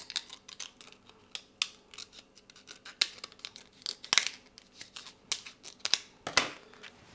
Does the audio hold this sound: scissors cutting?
yes